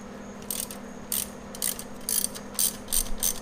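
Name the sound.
wrench loosening a 12mm bolt on a bracket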